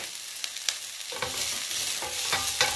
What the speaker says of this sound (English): We're just keeping our onions moving.